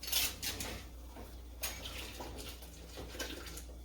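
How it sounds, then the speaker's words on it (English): Hot sanitized glass jars are lifted out of a water bath, with faint clinks of glass, light clatter and soft watery sounds at low level. "Taking the hot sanitized jars out."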